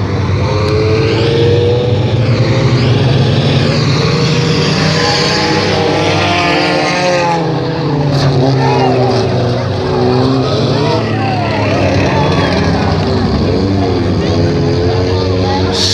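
Race cars at Baton Rouge Raceway roar past under the green flag, engines rising and falling as the pack sweeps by, loud and near, with an announcer talking over the noise.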